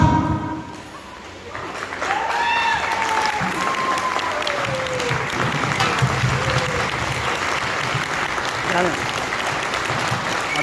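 Seminar audience at Dee Pee Residency in Pathankot breaks into sustained applause, dense clapping that builds after a quieter opening and carries on steadily, with voices briefly audible over it.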